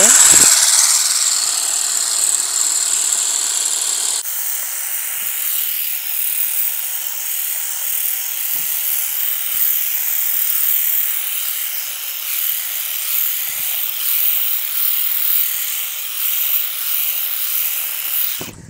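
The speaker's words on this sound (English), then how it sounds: "it's a battery operated trimmer" A battery-operated Ryobi grass trimmer with a grass-only attachment whirs steadily and loudly throughout, with a sharper high whine in the first few seconds before settling into an even electric hum.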